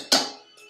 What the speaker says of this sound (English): I'm going to scrape the last little bits into the bowl